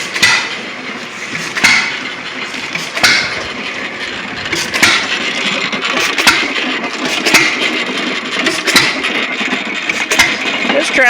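A hit-and-miss engine with its hand crank removed drives a corn sheller, giving sharp periodic firing bangs about every second and a half over a steady mechanical clatter and rattle, loud and close.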